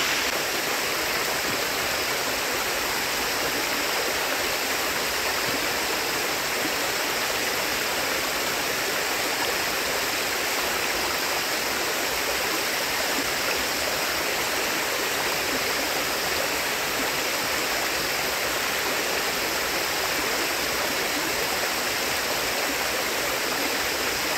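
A cold mountain stream rushes and splashes steadily near a hiking trail, a continuous, loud broadband water roar with no voices.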